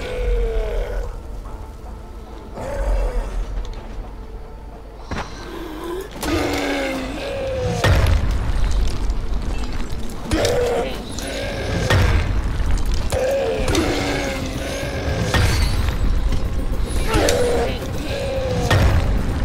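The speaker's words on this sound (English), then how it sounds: "Three of these Molotov cocktails left." A Molotov cocktail bursts in Dying Light with a series of heavy booms and crackling fire. Growls and grunts come between the blasts, loud and close throughout.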